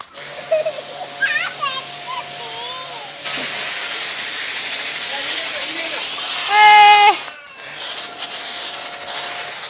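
Pressure washer spraying water over a car, a steady close hiss of jet spray with a surge of louder spraying partway through and a sudden cutoff, with a voice talking over it.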